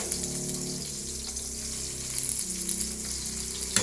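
Tomatoes go into a hot pan with onion for a Filipino chicken dish and sizzle steadily, a close, crackling hiss that runs throughout with a brief clatter near the end.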